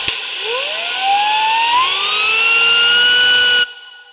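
An IS20 turbocharger is spun up by hand, giving a loud, close whistle that climbs steadily in pitch over a rushing hiss, holds high, then cuts off abruptly.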